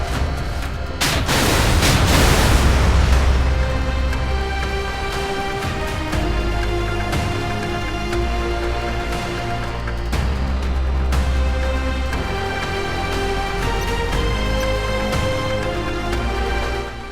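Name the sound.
Shkval torpedo launched and travelling in the game Modern Warships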